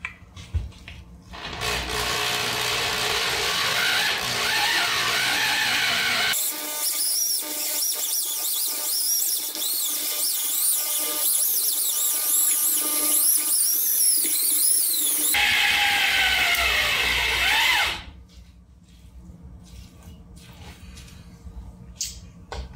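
An electric tomato strainer processing tomatoes for sauce whirs and grinds with a squealing motor whine, close and steady for most of the stretch, its pitch shifting midway before it cuts off.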